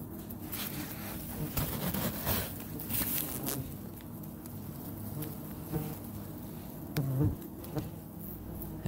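Yellow jacket wasps buzzing around a large active nest, a dense continuous drone of many insects up close with occasional louder passes and light patter.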